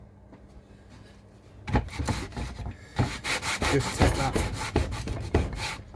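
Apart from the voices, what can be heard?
sanding block rubbing wood edges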